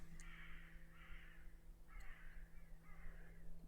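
Crows caw harshly at sunrise in four rasping calls in two pairs, somewhat distant over a low steady hum.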